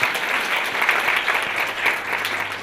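A dense burst of audience applause at a conference session, many hands clapping together in a loud, continuous wash.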